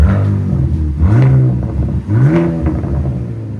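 A 2025 RAM RHO with a 3.0L Hurricane inline-six on a straight-pipe exhaust revs twice in close succession, each throttle blip rising and falling over a steady, loud idle rumble.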